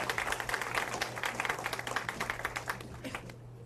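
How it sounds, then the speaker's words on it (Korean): Audience at a university CEO lecture clapping to welcome a bank executive, quiet but distinct applause with sharp individual claps over a low steady hum. "여러분 큰 박수로 맞아주시기 바랍니다."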